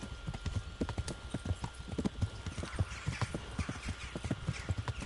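Hooves clop rapidly as a horse gallops in the medieval video game Kingdom Come, a steady close rhythmic drumming of hoofbeats that carries throughout.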